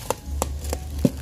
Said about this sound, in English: So crack your egg.